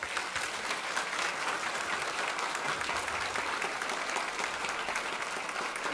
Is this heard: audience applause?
yes